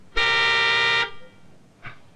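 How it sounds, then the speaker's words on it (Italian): A hypersensitive car horn gives one loud, steady honk about a second long, then a faint short toot follows after a pause. "È un clacson sensibilissimo."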